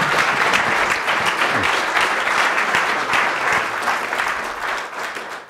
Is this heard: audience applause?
yes